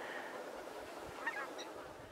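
Ducks calling outdoors at a wildlife centre in British Columbia's Creston Valley, a few faint honking calls over a steady open-air background, briefly rising near the middle.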